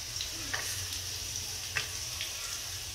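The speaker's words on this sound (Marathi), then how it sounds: "हे पहा इकडे मी फोडणीमध्ये हिरवी मिरची लसूण घातलेलं आहे" Green chillies and garlic crackle in a hot oil tempering in a kadhai, a soft continuous sizzle broken by a few light stirring taps and pops.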